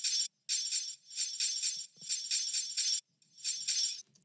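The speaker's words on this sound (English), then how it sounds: "I added this hi-hat loop, deep and glass tambourine loop" A deep glass tambourine loop in a trap remix, bright shimmering bursts repeating in a choppy rhythm with short gaps between phrases, fairly quiet and alone.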